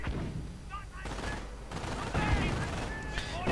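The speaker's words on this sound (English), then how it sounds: "Second MG42 also have it in sights. There we go, pinned down, getting gunned down." MG42 machine gun bursts and gunfire in a World War II video game, rapid rattling shots mixed with other battle noise and a voice talking over it.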